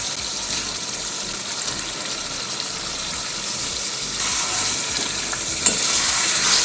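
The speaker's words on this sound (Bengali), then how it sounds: "চিকেনটা দিয়ে ভালোভাবে কষে নেব" Half a kilo of chicken frying and being stirred in oily mustard-oil gravy with panch phoron, a steady close sizzle with spoon scrapes throughout, growing slightly louder near the end.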